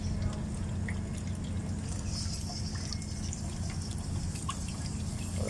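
Water draining from the air tank of a Mercedes-Benz Actros truck, a steady trickle and drip over a constant low hum, close by and fairly quiet.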